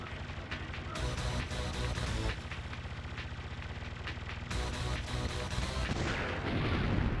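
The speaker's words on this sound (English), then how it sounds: "I'm shooting directly behind me." Rapid gunfire from the player's ship in the PS1 shooter Einhänder, a dense, continuous stream of loud shots layered over busy game music and effects, with no pauses throughout.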